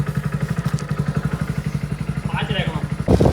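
A motorcycle ridden on a trip home after buying eggplants, its engine thumping in a fast steady pulse close by, with a voice briefly talking over it and a rattling clatter at the end.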